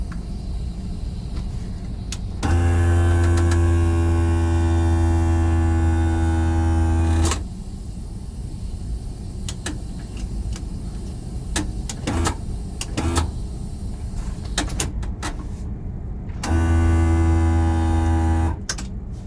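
Komatsu PC2000 excavator operator seat raising on its electric adjuster: a loud, steady motor whine runs for about five seconds, then returns for a shorter burst near the end, with quiet cab hum between.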